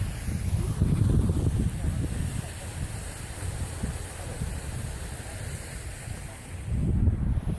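Strong wind blowing drifting snow outdoors at a snowy campsite beside a tent, a steady loud roar buffeting the microphone throughout, with gusts swelling at the start and end.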